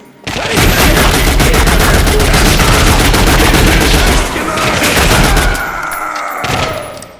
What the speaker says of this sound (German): Schießen!